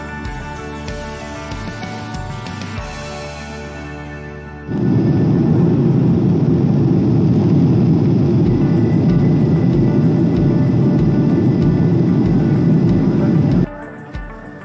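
Steady engine roar heard inside an airliner cabin on a flight from Bangkok to Phuket, rising abruptly to a loud, constant rumble that continues before cutting back down at the end.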